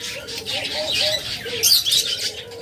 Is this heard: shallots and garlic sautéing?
no